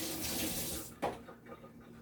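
Homemade apple cider vinegar drains as a steady rushing, splashing flow of liquid, close by, ending in a soft knock and a few faint trickles.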